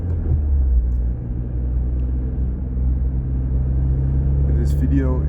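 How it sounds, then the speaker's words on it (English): Tuned Suzuki Swift ZC33S, lowered 35mm and fitted with an HKS Hi-Power Spec-L 2 exhaust, holds a steady, deep idling rumble while someone talks over it. "this video in high definition is there for you to get an impression of how the HKS system sounds"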